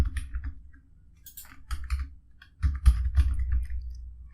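Typing on a computer keyboard while filling in an address form, irregular bursts of close key clicks separated by short pauses, louder toward the end.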